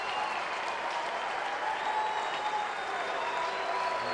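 Stadium crowd at a St. Louis Cardinals baseball game cheering and applauding a Yadier Molina home run, a steady dense roar of clapping and cheers that holds loud throughout.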